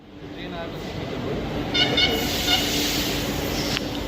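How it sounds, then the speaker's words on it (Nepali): A Delhi Metro train pulls into the station with a steady, loud rolling rumble and hiss, a brief horn-like toot partway through, under platform ambience. "सो ट्रेन आउँदैछ है।"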